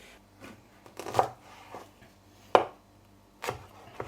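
Several sharp knife chops on a board at uneven intervals, close and fairly quiet, with soft scraping in between, as Naga chillies are chopped very finely for chilli pickle.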